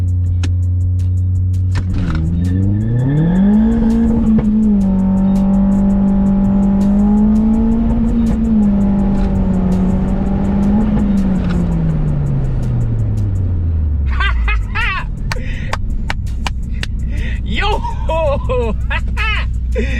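A modified Vauxhall Astra VXR accelerates from 0 to 60, heard loud and close from inside the cabin as the engine revs climb, hold through the gears, then drop away, with people talking at the end.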